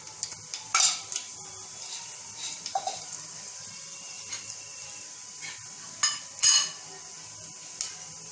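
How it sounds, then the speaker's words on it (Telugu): Cumin and mustard seeds dropped into hot oil in a bowl on a stove for a chickpea chole masala fry give a faint, steady hiss. A few sharp clinks and scrapes stand out alone, with no voices. "అందులో ఆయిల్ వేడిగానే జీలకర్ర ఆవాలు వేసుకోవాలి"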